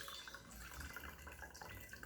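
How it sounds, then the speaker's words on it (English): Martini poured from a shaker into a martini glass, a steady trickling liquid stream running the whole short moment at close range, with no talking. "And now I'm going to pour the martini into the martini glass."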